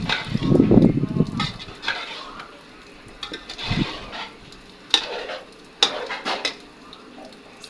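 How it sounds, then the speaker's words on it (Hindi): Semolina fries over a low flame in a pan, a soft sizzle broken by scraping stirs and occasional clinks of a spoon against the metal, close and intermittent. "सूजी डालते हैं और इसकी अच्छे से फ्राई करते हैं।"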